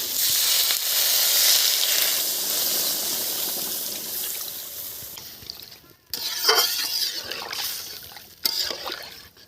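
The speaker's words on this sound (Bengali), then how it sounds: "এখন আমি জল ঢেলে দেবো।" Water poured into a pan of hot fried ground-spice paste for a catla fish curry sets off a loud, steady sizzling hiss that fades, then flares again in sharp bursts.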